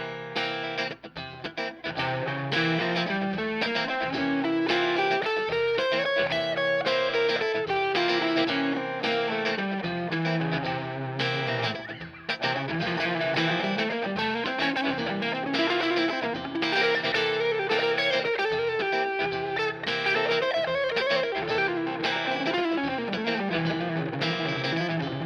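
Electric guitar running Mixolydian flat 2 scale lines through heavy distortion and chorus effects, over a sustained dense backing, with long winding runs rising and falling across the range, loud and continuous for the whole stretch.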